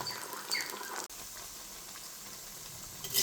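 Onion vadas (ullivada) frying in hot oil give a steady, close crackling sizzle that cuts out briefly for a moment, then carries on evenly without talk.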